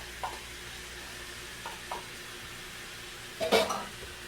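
Onions go into a hot pan for a chicken fettuccine Alfredo, with a few light clinks of utensils and then a brief burst of sizzling over a low background hiss.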